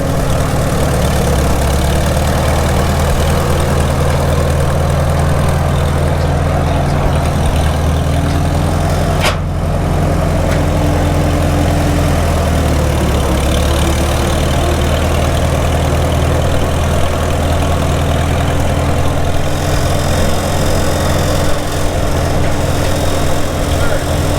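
A 1948 McCormick-Deering W-4 tractor runs in gear, its loud, close engine droning steadily with a continuous rear-end whine on top, one brief sharp click midway, unbroken for the whole stretch.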